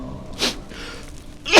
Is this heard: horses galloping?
no